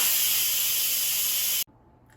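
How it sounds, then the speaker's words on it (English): An Instant Pot pressure cooker quick-releasing steam after cooking chicken wings: a loud, steady, broadband hiss from the valve that cuts off abruptly near the end, leaving only faint room noise. "so let's quick release the steam"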